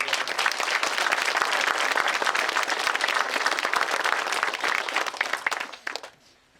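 Crowd applause at the groundbreaking ceremony for the Appalachian Outlaw Trails in Kanawha County, with brisk, dense clapping that stays steady for about six seconds, then tapers off quickly into quiet.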